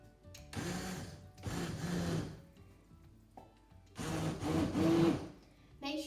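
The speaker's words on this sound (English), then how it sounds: "now it's time to blend" A blender whirs through butternut squash soup in two strong bursts with a short pause between them, close and loud, with no talk.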